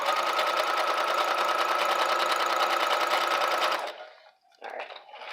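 A home sewing machine stitching a half-inch seam on a quilt, a steady rapid mechanical whir with a fine rhythmic chatter running loud for several seconds, then stopping abruptly, followed by faint handling noise.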